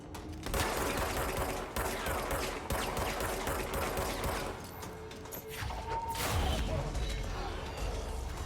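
Enemy submachine-gun fire in the video game Control, dense, continuous bursts with crashes and impacts running the whole way, loud and close, with a voice speaking at points.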